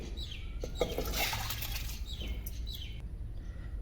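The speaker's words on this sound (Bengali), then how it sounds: "এবার ভাতটা চাপানোর জন্য একটা পাতিলের মধ্যে আমি চালটা ঢেলে নেবো।" Washed rice poured into a cooking pot: wet grains and water tumble in a close, continuous splashing rush with a few chirp-like squeaks and drips.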